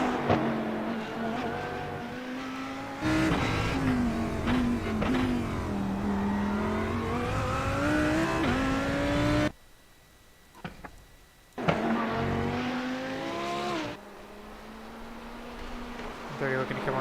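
A race car engine in a sim racing game at the Long Beach street circuit, revving and shifting through gears near the hairpin, loud and sustained with a brief lull. Commentary runs over it.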